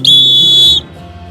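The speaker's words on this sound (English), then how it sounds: "I love the sound of that whistle." A bear-safety whistle on a hiking trip in Glacier National Park gives one loud, shrill, steady blast lasting under a second, close to the listener, then stops.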